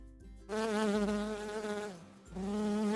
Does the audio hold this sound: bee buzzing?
yes